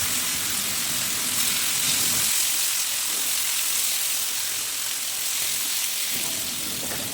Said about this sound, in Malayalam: ഞാൻ എണ്ണയിൽ തന്നെ ചിക്കൻ പൊരിക്കുന്നുണ്ട് കേട്ടോ.